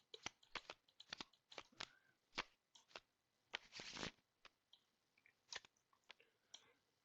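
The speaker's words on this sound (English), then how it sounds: "Oh, I didn't shuffle." Cards from a Smash Up card game are shuffled at a quiet level, making a string of short, crisp riffling and snapping bursts with brief gaps between them and one longer burst near the middle.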